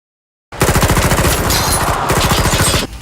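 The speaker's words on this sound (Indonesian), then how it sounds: "Di tengah baku tembak itu, Jamie sempat berhenti sejenak" Sustained automatic gunfire from a movie shootout crackles in rapid, evenly spaced bursts, loud and close, broken by a short gap before it ends abruptly.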